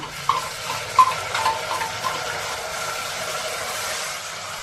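Green masala paste frying in oil in a pan with onions for homemade biryani, giving a steady, even sizzle with a few faint clinks near the start, heard alone and without talk.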